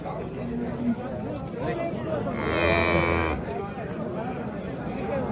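A cow at a busy livestock market lets out one loud, drawn-out moo nearby, rising over a steady murmur of crowd chatter and background voices.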